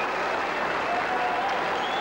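A cricket crowd applauds at a 1994 New Zealand versus Pakistan Test match in Christchurch, a steady, even wash of clapping from a large crowd that holds throughout without a break.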